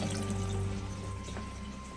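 Tap water runs in a steady, quiet stream for the final wash of developed film negatives, with a low electrical hum beneath it and no talking.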